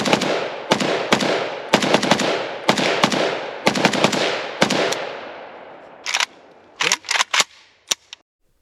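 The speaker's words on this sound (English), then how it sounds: "here's a quick look back at the Arsenal Sam 5 chugging Tula just fine" An Arsenal SAM5 rifle firing Tula steel-case ammunition outdoors: a rapid string of loud, sharp gunshots with ringing decay, then a pause and a few more quick shots near the end.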